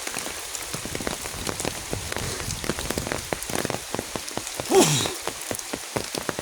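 Steady rain patters on outdoor surfaces, a constant close drumming of drops with scattered louder splashes and no voices.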